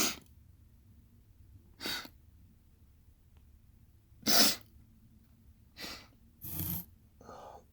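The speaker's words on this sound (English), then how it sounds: "excuse the sniffles, please" Short nasal sniffs from someone with a cold, out in the snow: five or six separate bursts, several seconds apart, against a quiet low background hum.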